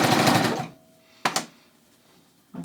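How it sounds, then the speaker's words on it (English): A serger sewing a seam on yoga pants runs in a fast, loud burst, then stops, followed by a couple of brief short clicks and a final short start. "And I'm going to start serging."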